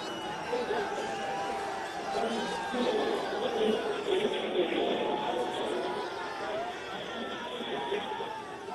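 Party workers crowd together celebrating outside the ED office after Rohit Pawar's 11-hour inquiry, a steady babble of chatter and shouts at moderate distance, with a reporter talking over it.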